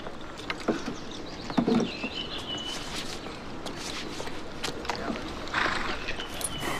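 Horse hooves clip-clopping at a royal parade, a rider on horseback, steady hoof clatter at mid distance over crowd and outdoor noise.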